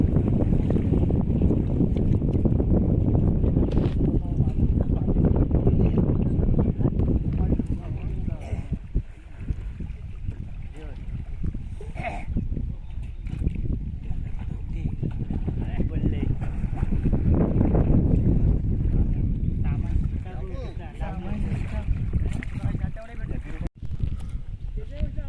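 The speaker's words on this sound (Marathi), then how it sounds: "बघा कशी होडी चालवते ती" Rowing boat moving on a creek in Kumbhavade, Rajapur, Konkan, used for gathering clams, heard as a steady, close, wind-buffeted wash of water and hull noise with voices talking intermittently.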